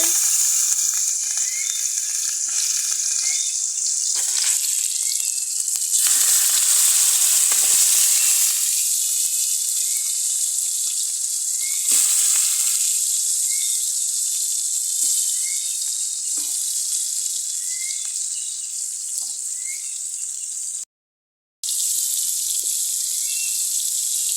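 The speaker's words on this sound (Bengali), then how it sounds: "এক পাশ ভাজা হয়ে গেছে এখন আর এক পাশ ভাজবে" Fish frying on both sides in hot oil in a pan, a steady loud sizzle continuing throughout with brief drops, broken by a short silent gap near the end; no one speaks.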